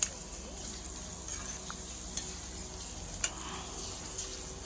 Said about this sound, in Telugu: గార్లిక్ పేస్ట్ ఒక 2 టేబుల్ స్పూన్స్ వేసుకొని అది కొంచెం పచ్చివాసన పోయే వరకు వేగనియాలి